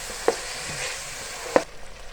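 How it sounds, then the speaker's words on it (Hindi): A pasta mixture with spices fries steadily in a pan, with a soft sizzle and two sharp spoon clinks as it is stirred. "तो हम इसको भूनेंगे"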